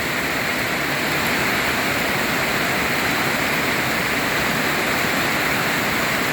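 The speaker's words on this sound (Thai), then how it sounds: "น้ำไหลเข้าบ้าน" Storm floodwater pours into a house at a garden home, a loud, steady broadband rush like a waterfall that continues unbroken throughout with no voices.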